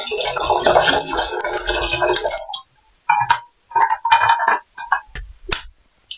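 Water pours with a loud, steady rush into a cooking pot in a home kitchen for instant noodles, lasting about two seconds, followed by scattered clinks and handling clatter.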